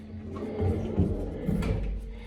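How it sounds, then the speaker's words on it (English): Heavy doors inside a bomb shelter slide shut, giving a short run of rumbling, scraping thuds that build and fade over about two seconds. "you have the doors that close."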